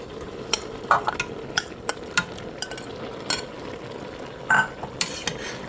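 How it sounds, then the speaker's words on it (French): A spoon stirs a pot of okra sauce with meat, fish and palm oil, giving scattered wet scraping clinks and squelches over a steady low simmer, close and fairly quiet. "Maintenant, je vais bien mélanger et laisser au feu."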